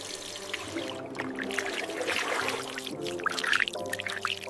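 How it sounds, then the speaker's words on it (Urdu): Water poured and splashing while the nose is rinsed during wudu ablution, a steady trickling flow with a soft musical tone running underneath, close and continuous. "ناک میں پانی ڈال کر صاف کریں۔"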